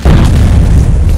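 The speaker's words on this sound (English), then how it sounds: "Fire in the hole! Fire in the hole!" A grenade explodes in a loud, close boom whose heavy low rumble fills the whole moment and fades only slightly, with no voices over it.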